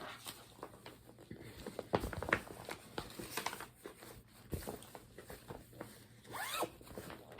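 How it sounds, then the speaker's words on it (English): Zippers on stitching project bags or cases are zipped closed, several quiet, close scratchy pulls in irregular succession with light handling rustle between them, no talking. "I tried to open all the zippers, but I'm going to zip them back before I put them away."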